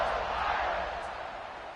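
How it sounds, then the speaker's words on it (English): A football stadium crowd buzzes after a score, a broad, steady roar of many voices that holds evenly and fades slightly toward the end. "this crowd is buzzing after that last score"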